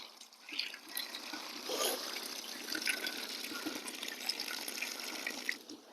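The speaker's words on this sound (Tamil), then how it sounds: "தண்ணி ஊற்றணும்" Water pours steadily onto soil around a newly planted tree, a continuous close splashing gush with slight surges, alone without talk.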